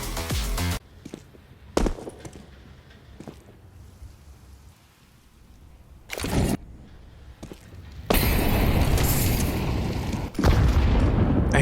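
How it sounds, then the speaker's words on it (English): HE grenade explosions in Counter-Strike 2 during a pro match at IEM Cologne 2025, with several sharp broadband blasts early on, then a long, loud crackling roar of blasts and gunfire in the last few seconds. "HE goes in a little too early."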